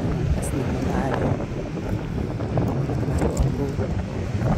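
Strong wind buffets the microphone on a rocky seashore beside a rock formation in New South Wales, a loud continuous roar with gusty swells, and a person speaks briefly over it.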